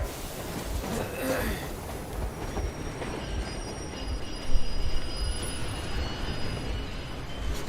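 In the video game Metro Exodus, a moving train rumbles steadily with rattling wheels and high metallic squeals, a louder surge of clatter coming midway.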